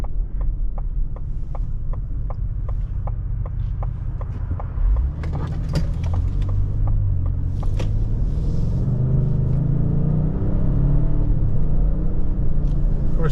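A 2023 Lincoln Navigator Reserve four-wheel-drive SUV launching hard from a stop, a deep engine rumble swelling steadily as it accelerates, loud and close, with a rapid ticking pulse early on.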